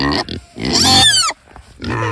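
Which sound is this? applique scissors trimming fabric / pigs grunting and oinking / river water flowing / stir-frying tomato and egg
pigs grunting and oinking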